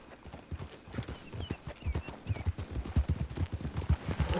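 Horses gallop fast in Red Dead Redemption 2, with dense, rapid clip-clop hoofbeats from several animals close by, steady and rhythmic, plus faint jingling and whooshing of riding gear.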